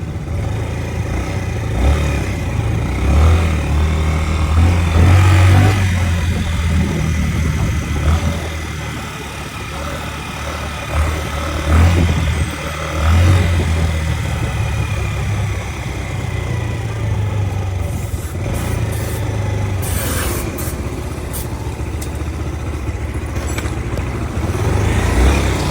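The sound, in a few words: motorcycle engine running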